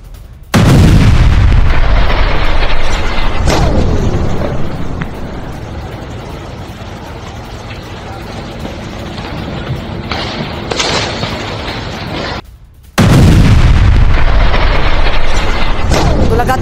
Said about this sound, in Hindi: रॉकेट से हमले की ये तस्वीर आप देख रहे हैं।